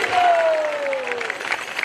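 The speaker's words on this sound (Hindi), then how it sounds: "जोरदार तालियां के लिए।" A crowd claps for actors after a devotional drama performance, a short burst of dense applause with a faint tone gliding beneath it.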